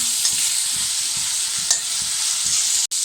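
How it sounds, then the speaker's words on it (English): Chopped onion sautéing in a pan for cauliflower Manchurian, a steady loud sizzle broken by a rhythmic scrape of stirring, with no voices. "Then add chopped onion and saute them well."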